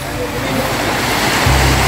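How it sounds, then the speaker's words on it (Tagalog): Sea waves wash against the shore at Samal Island, Davao, a loud, continuous rushing surge of water close by, with a deeper low rumble rising near the end. "tubig nga mudapya sa daplin sa baybayon"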